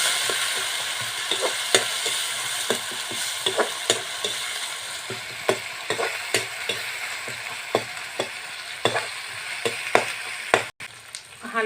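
Whole chilies fry in hot oil for an Assamese fish curry with haritaki, a steady close sizzle broken by frequent sharp pops and the scrape and tap of a stirring spoon. No talk.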